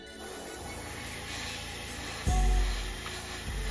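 Airbrush spraying orange paint onto a fishing lure, a steady close hiss of air and paint running throughout, with a soft thump and a slightly louder surge partway through.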